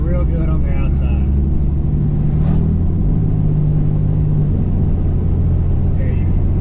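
A 6.7 Cummins diesel pickup fitted with a budget aftermarket air intake, recorded from outside the moving truck; a steady, loud low engine rumble and drone throughout, with faint intake whoosh and no talking.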